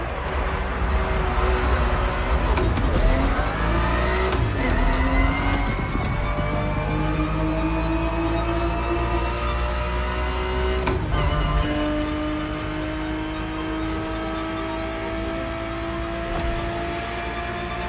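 The engine of a Ferrari 365 GTB4 race car revs up and down through the gears, its rising and falling pitch sustained and loud throughout.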